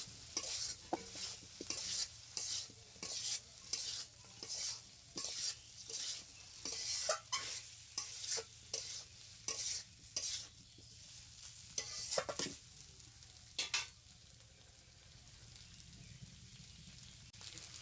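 Potato and cauliflower pieces fry in spice paste, a soft sizzle broken by a regular run of scraping stirs that thin out toward the end.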